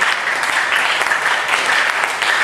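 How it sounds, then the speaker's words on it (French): A church congregation applauds during a French-language sermon, producing dense, steady clapping that fills the whole stretch at full strength with no talk on top. "Applaudissez pour le Seigneur."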